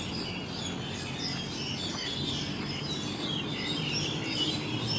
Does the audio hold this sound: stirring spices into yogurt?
no